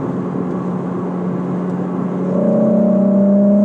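A Volkswagen VR6 car engine fitted with a RamAir intake filter drones steadily, then roars louder at full throttle, a rising whine joining the deep intake rumble.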